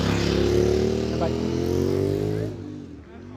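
Scooter passing by at a Norwegian motorcycle meetup, a moderate engine drone that builds and then fades as it moves off, with a voice over it.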